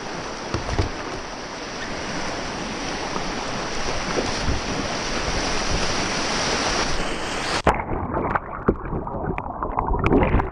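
Kayak paddled on open water on a Clearwater trip, with steady broadband wash of water and wind roar filling the first seven seconds, then quieter water splashes and a few sharp paddle knocks near the end.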